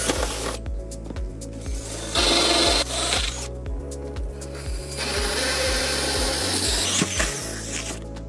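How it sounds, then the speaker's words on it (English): A Patriot sharpening machine works on tools such as knives, chisels, scissors or drills, giving a steady motor hum with a rapid repeating rhythmic grinding pulse and bursts of harsh scraping. It is close and loud, with no talk. "This tool is the Patriot sharpening machine."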